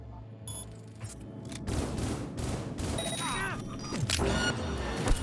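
Gunfire in Cyberpunk 2077 during a firefight: bursts of shots crackle over a dense game soundscape with whooshes and tonal effects, fairly loud throughout, with a sharp blast near the end.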